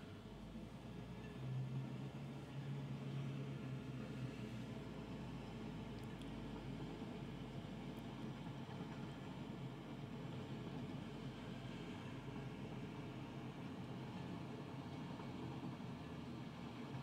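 Steady rumbling ride of a train rolling along track in the video game Satisfactory, a constant low drone with no break, no talking over it.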